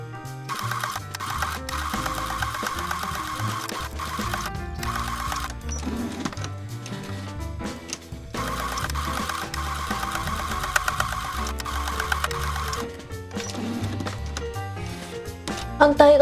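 A sewing machine stitches a tote bag handle with a 0.2 cm seam allowance, running in two long steady bursts with a short pause between them, close and loud, under soft spoken narration.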